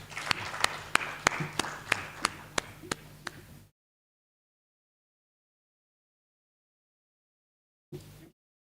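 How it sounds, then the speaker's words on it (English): An audience at a stakeholder dialogue event claps for a speaker, with distinct individual claps spaced out over about three and a half seconds before falling silent. A brief faint sound follows later. "A warm round of applause for him, please."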